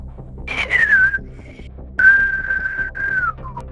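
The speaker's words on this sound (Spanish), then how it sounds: "¿quién es el niño rata, tío, que no para de silbar?" A player whistles during an online Call of Duty: Black Ops Cold War multiplayer match, with two clear whistled phrases of gliding, falling pitch separated by a short pause and heard close with no talk.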